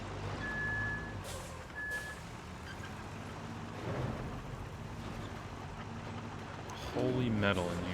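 A dump truck in the GregTech New Horizons video game gives out a couple of high reversing beeps over a dense, continuous machine hum, with voices talking near the end.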